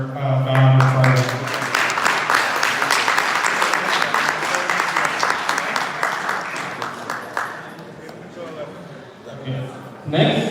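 Guests at a wedding reception break into loud, sustained applause that swells, then slowly fades over several seconds, with a voice speaking briefly before the clapping and again at the end.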